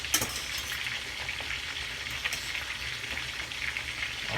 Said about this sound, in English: I'm just gonna wait until my fish is finished frying.